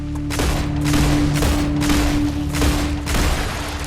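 Pistol gunfire in StarRupture, a rapid series of loud shots about every half second over a constant humming drone.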